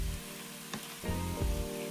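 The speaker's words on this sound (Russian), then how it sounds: "Овощи я также готовлю на сильном огне, но постоянно помешиваю, пока не увижу коричневатые кусочки." Vegetables, beef and bacon fry over high heat in a pan, a steady loud sizzle with brief stirring scrapes and bursts of crackle as the food is moved, no talk.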